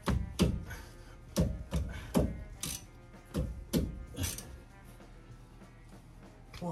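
A $12 Harbor Freight ratchet works on the brakes of a 2019–2021 Chevrolet Silverado Z71, giving a series of sharp irregular clicks and knocks spaced about half a second apart over a low background.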